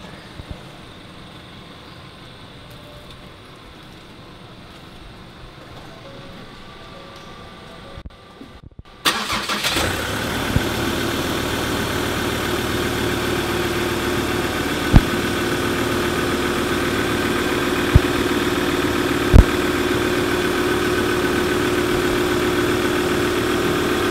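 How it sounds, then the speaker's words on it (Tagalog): High-mileage repossessed car started cold: after a quiet, muffled stretch the engine cranks and catches, then settles into a steady, loud idle with a few sharp clicks and knocks along the way. "Cold start"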